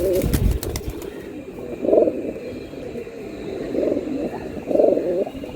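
Pigeons at a pigeon sale give several distinct rolling coos, spaced a second or two apart and close up, over a low hum, with a brief knock or rustle at the start.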